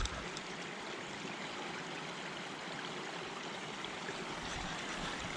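Water flows and trickles steadily at a farm pond dam, a continuous broad rushing wash with no breaks and no voices.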